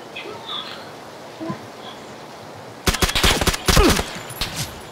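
Game gunfire in PUBG bursts out after a quiet stretch of outdoor ambience: rapid volleys of automatic shots, loud and fairly close, rattling for about two seconds.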